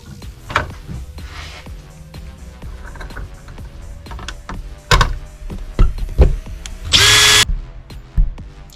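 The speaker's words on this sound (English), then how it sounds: "I'm going to get a drill out" Several short bursts of a power drill whir as it drills holes for a custom RC car GoPro mount, among clicks and handling noises, with one longer, louder burst near the end.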